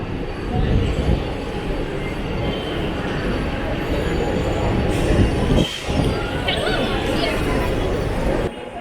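Trains at Chhatrapati Shivaji Maharaj Terminus in Mumbai: steady loud rumble of railway cars with wheel squeal and a busy station wash of crowd chatter throughout.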